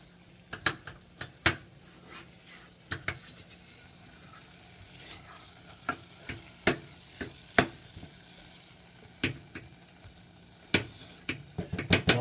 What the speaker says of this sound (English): You got to constantly stir it and mix it, or it will burn real fast.